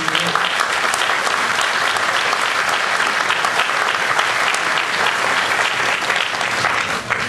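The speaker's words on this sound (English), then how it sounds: "So I'd like to give a round of applause to Senator Bucco" An audience at a gala applauding Senator Bucco, with a loud, continuous round of clapping that holds steady for several seconds before easing slightly at the end.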